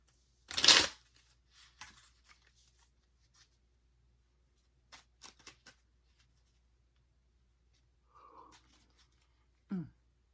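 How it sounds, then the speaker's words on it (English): A deck of playing cards gets one quick riffle shuffle, a short crisp burst at the start, then a few soft card taps and light handling noises in a quiet room. "One last shuffle."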